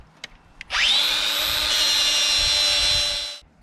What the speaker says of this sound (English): I'm going to use this grinding pad here. It's got like a Scotch-Brite sort of pad on it all around it